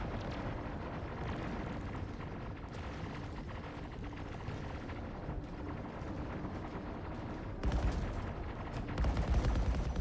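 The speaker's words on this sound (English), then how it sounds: "who is shooting me back here?" Steady rattling bursts of gunfire in Star Citizen, played in VR, continue throughout. Heavier thumps cut in near the end.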